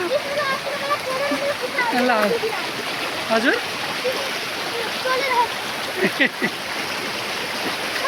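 A rushing mountain river flows steadily with a broad, constant roar while people talk over it from a rocky island mid-stream in Jajarkot, Nepal.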